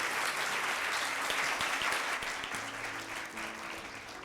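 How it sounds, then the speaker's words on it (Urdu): A church congregation applauds to welcome a pastor to the pulpit, a dense steady clapping from many hands heard from within the hall, slowly easing off toward the end. "جی تو میں آپ کی بھرپور تالیوں میں پاسٹر آصف نسیم کو دعوت دوں گا"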